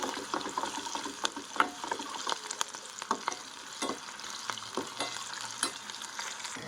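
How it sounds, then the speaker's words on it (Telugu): Green chillies frying in a pan for chicken pakoda sizzle softly up close, broken by repeated scraping clicks of a spatula stirring them, with no voices. "బాగా ఫ్రై అవ్వాలండి. పచ్చిమిర్చి పచ్చిగా ఉండకూడదు మనకి పకోడాకి."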